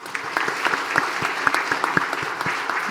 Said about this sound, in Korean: 수고와 그 노고에 감사를 드리는 감사의 박수를 드리겠습니다.